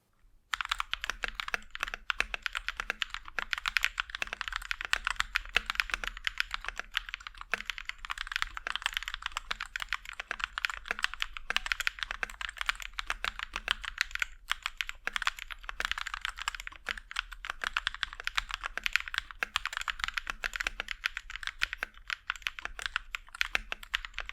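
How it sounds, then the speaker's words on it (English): A CIY X79 mechanical computer keyboard being typed on continuously, producing a dense, steady stream of crisp clacky keystrokes close up, with no talking. "let's find out how this keyboard sounds."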